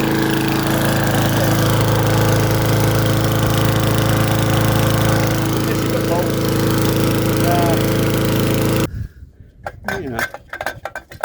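Petrol lawn mower engine running steadily and loudly after starting, with an exhaust port thread fault, a constant droning roar that cuts off abruptly near the end, followed by clinks and handling noises.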